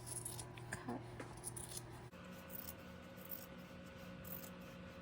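Scissors snip through T-shirt fabric at a marked hemline, giving soft close crisp cuts in a short run, then a steady quieter rasp of blades sliding through cloth, with no talking.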